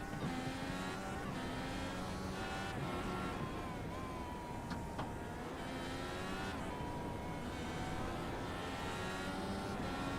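An IndyCar race car's engine screams steadily at close range as the driver downshifts from second to first through a bumpy, technical street-circuit section, pitch rising and falling with a few brief blips.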